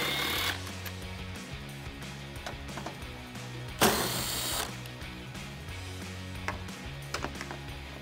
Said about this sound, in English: I'll just use my 10mm socket and my clip tool and pull those out